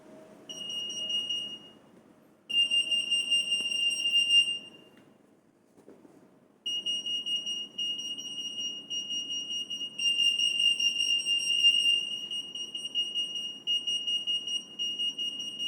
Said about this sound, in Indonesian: Dia akan berbunyi tiang sensornya.